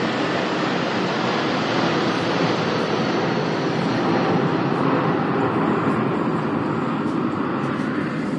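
Aircraft passing overhead along a flight path, a loud, continuous broadband roar that holds steady throughout with no talk over it.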